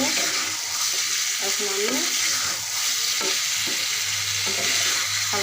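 Potatoes fry in spices in a hot pan with a loud, continuous sizzle while a utensil stirs and scrapes through them, and a voice speaks briefly.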